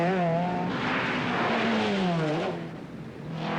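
A rally car in the 1984 Rothmans Manx International roars past, its engine revving loudly and climbing through rising and falling pitches before fading, then returning.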